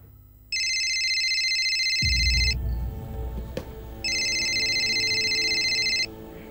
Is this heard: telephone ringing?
yes